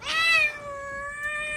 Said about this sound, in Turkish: Kedi mama istiyor.